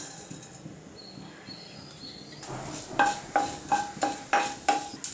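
Mustard seeds and urad dal hitting hot oil in a pan for lemon rice: after a quiet start, a run of sharp, regularly spaced pops and crackles over a low sizzle, close by with no talking.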